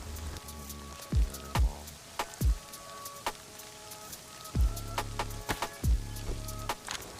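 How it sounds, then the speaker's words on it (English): Rain falls steadily outdoors, with scattered raindrops tapping on a nearby surface in irregular, fairly loud knocks over a quieter patter. "Rain still presents as an obstacle."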